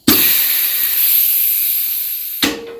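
Compressed air hissing steadily through a 4L60E transmission input drum during a blind bleed check, a sharp, close, continuous rush for about two seconds that cuts off, then starts again in a brief second burst.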